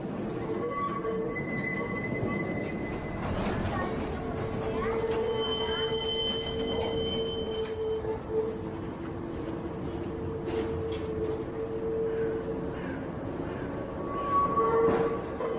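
An old East German Gotha articulated tram in Leipzig rumbles along, its wheels squealing in long sustained tones on the rails, moderately loud and steady throughout.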